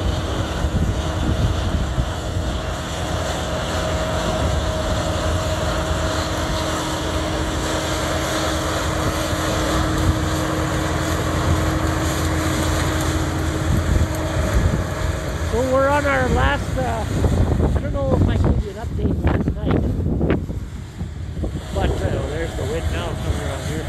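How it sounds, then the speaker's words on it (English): Strong wind on a farm during canola harvest roars and buffets the microphone in a constant low rumble, with a voice briefly speaking near the end. "Man, it is windy today."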